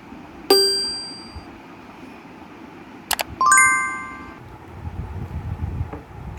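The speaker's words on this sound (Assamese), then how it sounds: "ফোনটোৰ চাউণ্ডটো টেষ্ট কৰিলোঁ মই" A Samsung M34 5G phone speaker plays test tones: one bright ding, then a pair of quick clicks and a rising run of chime notes, loud and close over faint background hiss.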